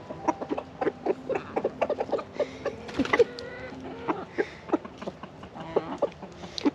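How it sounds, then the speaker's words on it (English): A rooster gives a run of quick, repeated clucking calls to summon the hens to food scraps in a North Georgia garden in December, with other fowl clucking softly nearby. The calls are close and arrive in uneven bursts. "Hear that little noise that the rooster is making?"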